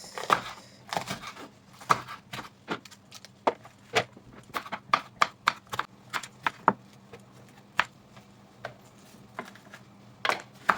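A knife chopping peppers into pieces on a board for Nigerian tomato soup, a series of crisp, close, irregular taps.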